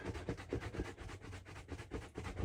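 Tips of a wetshaving brush scrubbed back and forth with light pressure, a quiet, rapid bristly rubbing in quick strokes, close and alone.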